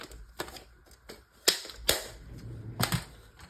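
Paper being trimmed on a cutter for a junk journal, heard as a handful of sharp, close clicks and snaps at uneven intervals, with quiet handling noise between them and no speech.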